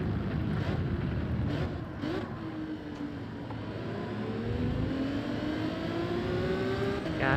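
A race car engine in the video game Gran Turismo 7 drones and rises in pitch as it revs through the gears, a continuous synthetic whine with no talking.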